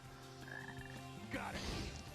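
Frogs croaking in the rainy Frog Forest stage of Sonic Heroes, a loud run of pitched, buzzing croaks over game background noise.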